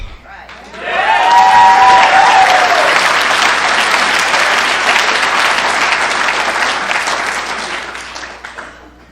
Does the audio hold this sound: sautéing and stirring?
no